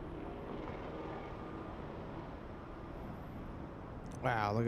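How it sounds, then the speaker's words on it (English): A Lufthansa airliner coming in to land makes a steady, distant engine rumble and drone. A voice comes in near the end. "Lufthansa landing very shortly"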